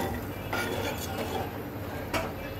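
A spoon stirs hilsa fish curry broth with potatoes in a cooking pot, giving scattered metallic clinks and scraping against the pot over a steady kitchen background.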